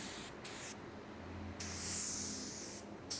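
A spray gun set to about 1.5–1.8 bar inlet pressure lays primer surfacer onto plastic parts, giving soft, airy hissing bursts that stop and restart, with a brighter, stronger spray toward the end, heard alone and fairly faint.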